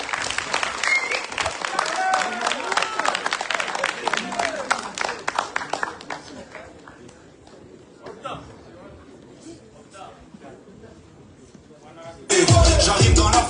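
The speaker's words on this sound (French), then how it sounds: "Vos applaudissements." An audience at a gathering applauds for a consul, loud clapping with scattered cheers and chatter that thins out over several seconds, leaving murmuring voices before a sudden loud burst of noise at the end.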